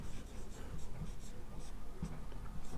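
Marker or chalk writing on a classroom board during a polity lecture on the constitution, a steady scratchy stroking with small taps, close and moderately loud with no talk over it.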